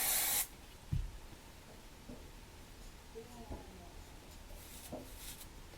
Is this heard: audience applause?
no